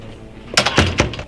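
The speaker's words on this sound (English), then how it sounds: "We lock the doors." Doors are locked during a school lockdown drill, a few sharp clunks and rattles of a latch and bolt close by after a quiet moment, with no talking.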